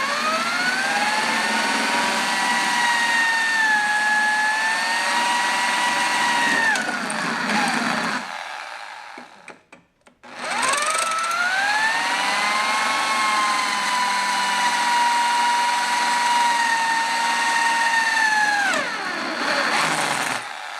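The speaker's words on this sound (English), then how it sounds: "Now we're going to drill in." A power drill whines steadily at high speed for several seconds while drilling into a hollow rivet, pauses briefly, then runs again in a second long, even burst.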